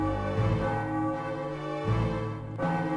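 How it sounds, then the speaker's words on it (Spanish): Bells ring in Final Fantasy IX, a few tolling strikes in repeating, musical sustained tones, moderately loud with no speech. "Suenan las campanas."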